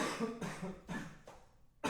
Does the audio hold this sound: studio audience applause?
no